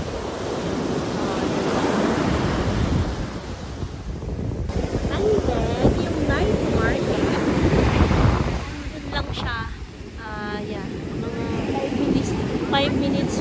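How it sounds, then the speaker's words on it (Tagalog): Strong ocean surf crashes and rolls continuously in loud, wind-buffeted washes along a beach in Nha Trang, Vietnam, with brief background voices partway through. "tingnan nyo, ay, ang lakas ng alon"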